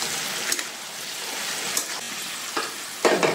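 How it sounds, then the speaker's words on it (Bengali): A spoon stirs bottle gourd curry with fried fish and lentil dumplings in a pan, giving a steady soft sizzle with a few scraping strokes spaced out over a few seconds. "এই যে মাছ ভাজা আর বড়িগুলো দিয়ে দেবো। তখন নাড়াবো।"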